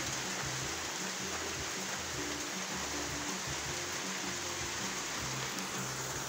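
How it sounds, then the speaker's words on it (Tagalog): Rain pours down in a steady, dense hiss with no breaks, heard up close and without any voices. "So ayun nga guys, umulan dito."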